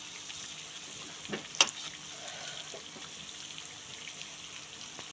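Raw banana bajji frying in hot oil on a low flame, a soft steady sizzle and bubbling with a few sharp pops and crackles, fairly quiet and close.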